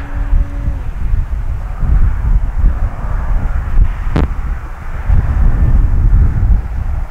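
An E-flite Carbon Z T-28 electric RC model airplane drones past in a steady, loud hum, mixed with outdoor wind noise across the whole stretch.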